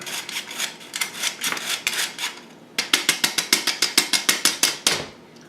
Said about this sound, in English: And of course I have an old hand crank sifter.